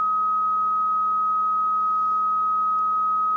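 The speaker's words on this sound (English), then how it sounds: "sine wave." A steady, pure sine tone from a class D amplifier during a ripple measurement holds at constant level throughout, with a faint weaker harmonic beneath and no voices.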